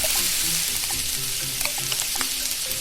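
Olive oil sizzling in a pan in the Kiddopia Junior Chef's Cafe cooking game, a steady, close frying hiss with small crackles and light pops throughout, no voices.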